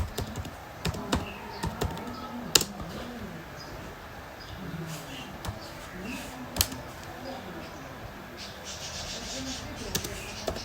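Typing on a computer keyboard, writing a gig description: a run of light, uneven key clicks with a few sharper taps, close by, while someone talks over the typing.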